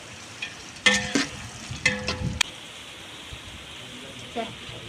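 Onions frying in a pan for mutton biryani, with intermittent stirring scrapes and bursts of sizzle against a low, steady background hiss, fairly quiet overall.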